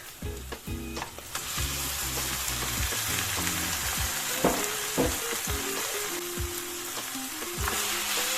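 Ground pork frying with garlic in a pan, a steady loud sizzle with scraping stirs and occasional clinks of a utensil against the pan, no voices.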